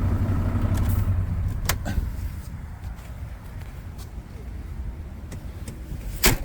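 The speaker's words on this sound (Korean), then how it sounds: "엔진 소리도 좋습니다." A MAN truck with a 10.2 m wing-body idles with a steady low rumble nearby, punctuated by occasional sharp clicks and taps.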